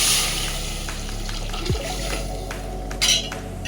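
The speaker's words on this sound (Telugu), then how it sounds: "వాటర్ పోస్తానండి" Water poured into a pot of chicken curry for bagara rice, a loud, close rush of liquid lasting a few seconds, with a brief splashy surge near the end.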